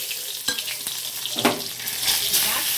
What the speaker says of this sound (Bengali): এই তেলের মধ্যে আমি এই সম্বরাটা দিয়ে দিলাম